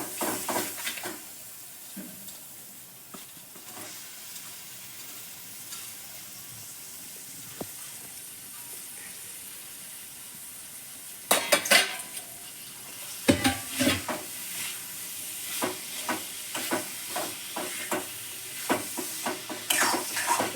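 Shrimp (jhinga) go into a hot pan and fry with a low hiss, then loud bursts of sizzling and repeated stirring scrapes and clatters follow, closer and busier in the second half, with no talking.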